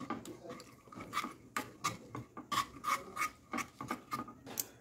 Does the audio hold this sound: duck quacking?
no